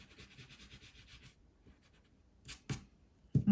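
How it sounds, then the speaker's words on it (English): Pencil marks are erased from paper with a few soft, quiet rubbing strokes at the start, followed by near silence and a couple of faint knocks. "I'm gonna erase it a bit."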